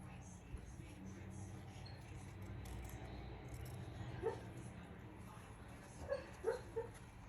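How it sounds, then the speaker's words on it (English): A dreaming puppy gives a few soft, muffled yips and barks in short bursts near the end, over a steady low background hum. "If you can hear that, my puppy is dreaming, so he's barking quite a bit."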